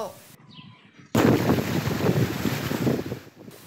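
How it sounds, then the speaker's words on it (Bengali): Strong wind from Cyclone Remal in Bagerhat, a loud, continuous roaring rush of gusts buffeting the microphone, cutting in abruptly after a quieter opening and holding steady for several seconds. "ঘূর্ণিঝড় রিমালের প্রভাবে সকাল থেকে প্রবল বাতাসে কাঁপে বাগেরহাটবাসী"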